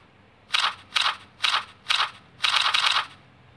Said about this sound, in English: sounds like an old fashioned typewriter